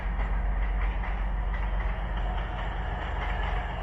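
A diesel suburban passenger train with two carriages rolls along rails through the Ukrainian Carpathians, giving a loud, steady rumble with a dense low-frequency drone throughout and no voices.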